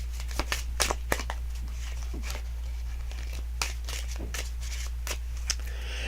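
A deck of playing cards being shuffled at close range, with crisp riffling and snapping bursts over a steady low hum, no talking.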